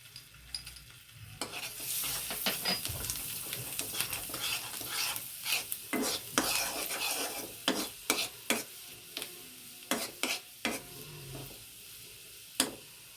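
Garlic frying in a pan for chicken kebab, a soft steady sizzle under repeated scraping strokes of a utensil stirring, the clinks growing sharper toward the end.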